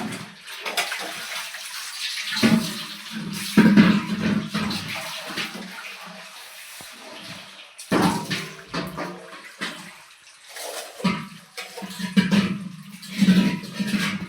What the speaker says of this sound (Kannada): ನೀರು ಬಿಟ್ಟಿದ್ರು, ನೀರೆಲ್ಲ ಹಿಡ್ತಾಯಿತ್ತು.